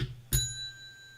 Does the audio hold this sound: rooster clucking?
no